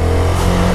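A CF Moto 250SR motorcycle's 250 cc single-cylinder engine revving with a loud, steady droning hum, heard close and alone without speech.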